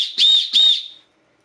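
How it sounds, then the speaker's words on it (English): Fox 40 whistle on a paracord lanyard, two sharp shrill blasts in quick succession, loud and close, the second trailing off into silence. "I also have a Fox 40 whistle with a paracord lanyard for it."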